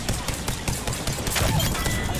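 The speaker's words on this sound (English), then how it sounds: "I'm being shot at!" Dense, rapid gunfire in the video game Apex Legends, overlapping bursts of sharp shots crackling continuously at close range.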